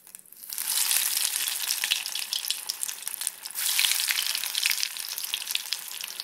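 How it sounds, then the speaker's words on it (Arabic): Chicken croquettes fry in hot oil, a dense, loud, continuous crackling sizzle that swells as pieces drop in and carries on steadily, close up with no talking. "دابا غادي نبداو نقلي. بالنسبه للقلي الزيت ديالتي ها هي سخونه"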